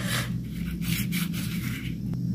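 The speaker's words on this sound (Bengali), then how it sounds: "ভালো করে এবার সিম দিয়ে মাখিয়ে নেবো।" Flat beans are rubbed and tossed by hand with salt, turmeric, cumin and chili powder in a bowl, making a close, continuous soft rubbing and rustling over a low steady hum.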